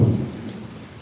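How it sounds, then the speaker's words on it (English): Rain falling during a thunderstorm, a steady close patter with a low rumble that is strongest at the start and eases slightly over a brief moment, with no voices. "Relaxation sounds of the rain"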